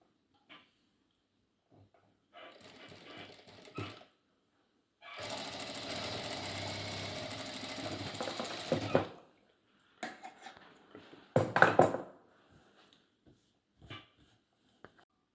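A sewing machine stitching tucks on a saree blouse, running in short bursts: a brief run, a longer steady whir of several seconds, then a few quick stops and starts with small clicks, close and clear.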